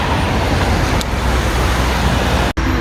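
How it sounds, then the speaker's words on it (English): Steady roar of cars passing on a wet road on a rainy day, continuous broadband traffic noise close by, with a brief sharp dropout near the end and no talking. "Cars are passing and all that."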